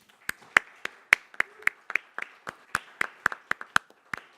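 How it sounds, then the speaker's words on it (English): Sparse applause at a closing plenary of an academic colloquium on environmental ethics: a small audience clapping in sharp, spaced individual claps, fairly faint and without voices. "Let's give them a round of applause again."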